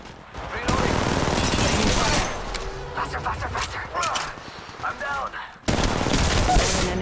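Sustained volleys of automatic gunfire in the mobile battle royale game Apex Legends Mobile, played on a Poco X3 Pro, crackling loudly in long bursts with a short pause near the end and brief voices in between.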